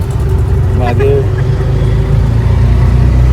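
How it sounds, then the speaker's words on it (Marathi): An auto-rickshaw's engine drones loudly and steadily during a ride, with a low, continuous rumble that carries throughout and a voice speaking briefly over it. "रिक्षामध्ये बसलो आहे."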